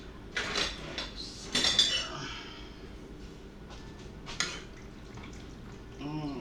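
A metal utensil stirs Philly cheese steak pasta in a pan, giving several clinks and scrapes against the cookware in irregular bursts, with faint voices in the background.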